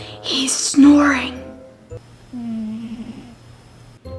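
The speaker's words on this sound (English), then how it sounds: "He's snoring." Soft, slow snoring breaths from a sleeping figure in a house-invasion game, faint and close under quiet background hum, with a nearby voice whispering just before.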